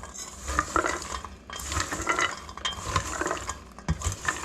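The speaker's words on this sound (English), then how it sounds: "You toss the egg white with the nuts. And then you stir for about a minute until it's completely coated." Walnuts being stirred with egg white in a bowl for candied holiday nuts, giving a close, continuous wet scraping and clicking of nuts against the bowl, with no talk.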